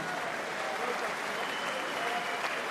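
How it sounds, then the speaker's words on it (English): A boxing crowd applauds both fighters after the final round, a soft wash of distant clapping and crowd murmur blended into arena noise, steady and muted. "please join me in offering your applause to both valiant contestants"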